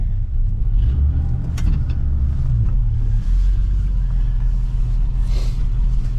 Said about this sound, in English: We're going to drive it up to the front of the garage so I can get at changing this battery.